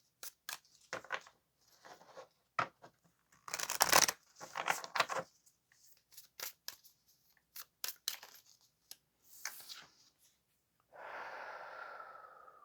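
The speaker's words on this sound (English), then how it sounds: "Let's give it a good shuffle." Oracle cards riffled and shuffled in quick bursts, close by, with papery snaps and flicks, ending in a steady rushing riffle.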